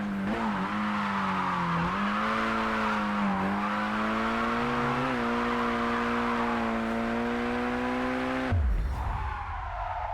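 A Mitsubishi Evo VIII tuned for grip racing screams through a Japanese Drift Master touge run, its engine note rising and dipping steadily through gear changes before a sudden drop as it lifts off near the end.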